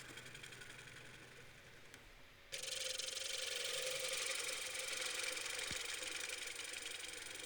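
Gouge taking finishing cuts on wood spinning on a lathe: a quiet motor hum, then the cut bites in suddenly as a loud steady hiss that holds to the end.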